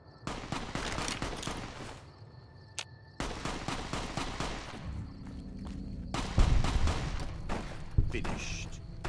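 Rifle fire from an anti-materiel rifle and other guns in the video game Fallout: New Vegas, with repeated loud shots and bursts that come in clusters over most of the stretch, under and between some background game sound.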